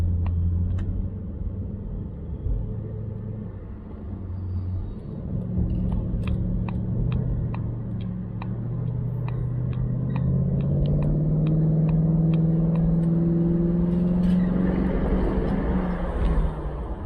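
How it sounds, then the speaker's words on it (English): Steady road rumble and passing traffic heard from inside a moving Jaguar XK8 XKR X100, a continuous low drone that swells gradually, with faint ticking and no talk. "Some of what you're hearing obviously is road noise and noise of the vehicles around me."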